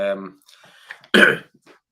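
A single short, harsh cough or throat-clearing burst from a man during a live talk, coming right after a brief spoken sound and followed by quiet.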